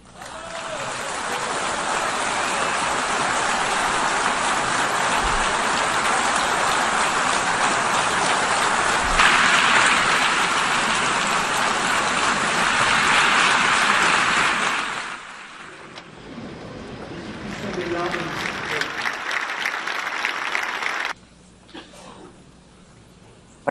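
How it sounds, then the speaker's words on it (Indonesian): Sustained applause for a standing ovation fills an assembly hall, a loud, dense wash of clapping for about fifteen seconds that then thins into scattered, softer clapping before fading out. "terlihat berdiri dan juga memberikan tepuk tangan atau standing ovation"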